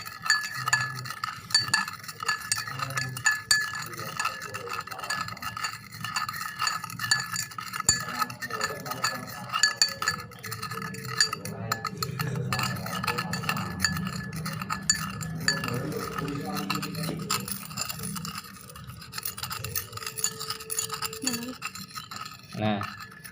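Steady scraping and clinking of a spoon stirring sand into water in a glass, continuing for a long stretch with faint background noise.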